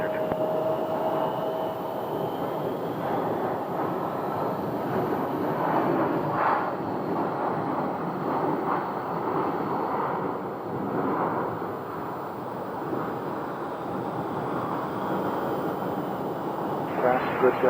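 A Delta airliner at Phoenix airport produces a steady, broad jet roar that holds at an even level throughout, with air-traffic-control radio chatter talking over it.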